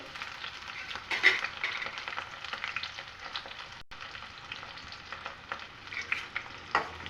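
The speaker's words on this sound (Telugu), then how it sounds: "మనం ముందుగా కట్ చేసి పెట్టుకున్న ఆనియన్స్ వేసుకున్నాము. అలాగే కరివేపాకు," Onions and curry leaves frying in hot oil after mustard and cumin seeds, a steady, soft crackling sizzle with occasional louder pops and stirring scrapes, heard close and alone.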